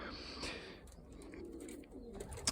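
A domestic pigeon gives faint, low cooing sounds at close range against quiet background noise.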